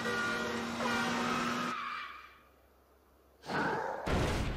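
Bowser's car rumbles and skids during the boss fight in Super Mario 3D World, an engine roar with tire squeal that fades, goes quiet, then surges back loudly.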